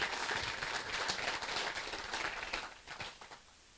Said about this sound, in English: Nice round of applause for Mark Charbonneau